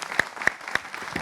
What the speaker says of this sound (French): on va les applaudir encore très fort